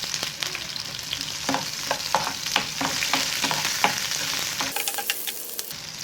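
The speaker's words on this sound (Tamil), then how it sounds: "இப்போ நம்ம வச்சுருக்க ஆனியனையும் போட்டுடலாம்." Onions fry in hot oil in a pan with cinnamon and cloves, giving a steady close sizzle. Sharp clinks and scrapes of a stirring spoon come repeatedly, and no one speaks.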